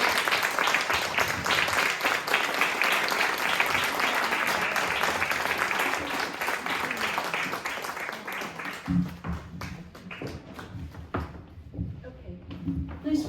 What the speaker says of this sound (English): So please have some applause for my friend, mentor,